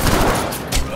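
Battlefield video game gunfire plays as a loud, dense burst of rapid shots through the whole second, with a heavier thump near the end.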